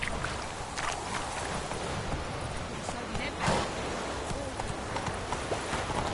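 Roach the horse's hooves clip-clop at a steady gait in The Witcher 3, a continuous muffled trotting rhythm over ambient game sound with a faint voice.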